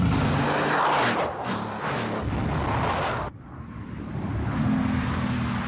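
Bugatti Veyron supercar driving past, a loud rushing engine roar that swells and fades, then drops sharply before a second passing rumble builds, with no talk.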